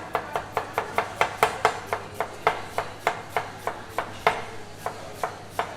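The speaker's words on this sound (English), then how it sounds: "We're going to julienne. So I'm going to cut this a little smaller." A knife julienning half a red cabbage on a cutting board at a cookery school, a steady run of about twenty crisp, evenly spaced chops close by, with no talking.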